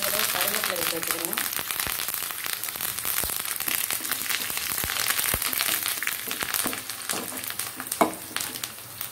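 Curry leaves frying and crackling in hot oil for a Tamil paruppu kulambu, a dense continuous sizzle with sharp pops and stirring clatter close by throughout.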